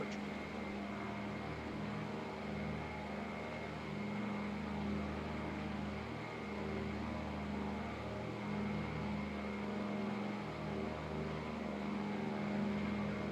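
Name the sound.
Breitling DC-3 propeller aircraft engine in flight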